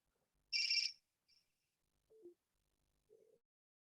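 A telephone rings in a short burst of bright electronic tones, then falls quiet apart from a few faint, low blips in an otherwise silent room.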